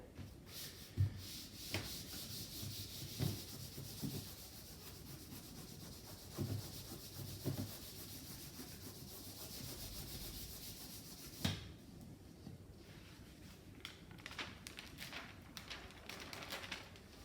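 Paper is rubbed by hand over an inked plate to lift excess ink for a monoprint, giving faint, soft scratchy strokes with a few sharper knocks and rustles against quiet room noise.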